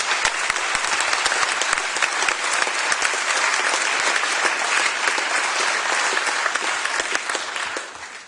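A city council chamber audience applauds the Lord Mayor's deputy, Mark, with dense, even clapping that holds steady for several seconds before tapering off at the end.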